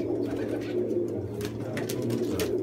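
Pigeons gather at a warm spot beside a heated building in winter, their soft low cooing running steadily throughout, with a few brief higher chirps over it.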